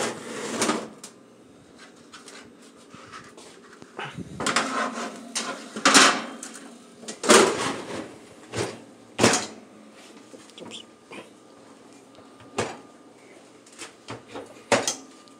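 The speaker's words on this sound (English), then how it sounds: "I'm gonna put the meatloaf in the oven." A meatloaf goes into a kitchen oven with a string of clunks and knocks, the rattle of a pan and the thud of a door, all close and irregular against a quiet room.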